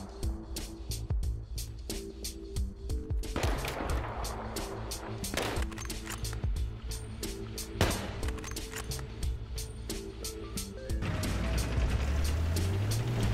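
Repeated sharp gunshots from an enemy sniper in Battlefield 3 crack out at irregular intervals over rumbling battlefield noise and engine drone. The final seconds grow louder and busier.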